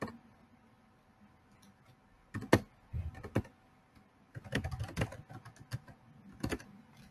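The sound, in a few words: typing a username on a computer keyboard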